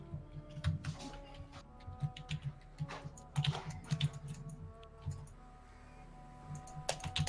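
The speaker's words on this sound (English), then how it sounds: "Who's typing like their life depends on it?" Fast typing on a computer keyboard: rapid, irregular bursts of clicking keys, fairly quiet and close, with brief pauses between flurries and no voices.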